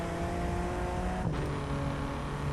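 Muffled SUV engine hum from inside the cabin in The Crew 2 racing game, a steady, dampened drone with a brief whoosh of something passing midway.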